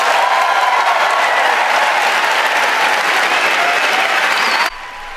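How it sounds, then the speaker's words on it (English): A large audience applauds and cheers after Ben Shapiro's speech, loud dense clapping with crowd roar filling the room and cutting off abruptly near the end. "Thousands of people standing up and cheering at the great Ben Shapiro"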